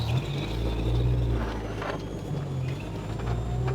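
A Honda D16-engined car with an upgraded gearbox drives on the road, its engine holding a steady, low, rumbling drone heard from inside the cabin, with no voices.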